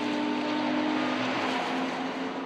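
Sports cars racing on a track in pursuit of a leading Porsche, a loud, sustained engine drone with a steady tonal whine, close and continuous without any speech.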